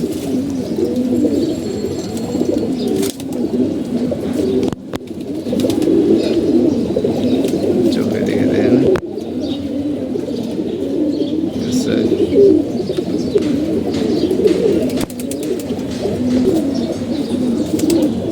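A flock of domestic pigeons keeps up continuous throaty cooing, layered and close, with a few sharp clatters breaking in now and then over a long, even stretch.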